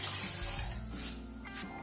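Water poured into a cooking pot as two cups go in for brown rice with vegetables, a steady broadband splashing stream heard close and alone, with no talk.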